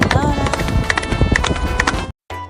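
Galloping horse hooves in a Hindi children's song: quick clip-clop beats mixed under bright music and singing, then a sudden short silence near the end.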